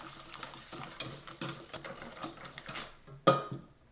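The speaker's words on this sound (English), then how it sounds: "And we will whisk that together." A whisk taps and scrapes quickly in a bowl of eggs, lemon zest and lemon juice for lemon curd, a quiet, close, rhythmic clatter ending in one louder knock.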